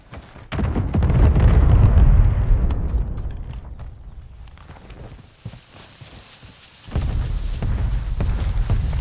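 Enemy missile strike in Call of Duty Warzone: a loud, deep rumbling blast swells and slowly fades, followed by a second heavy roaring burst near the end, with no talk.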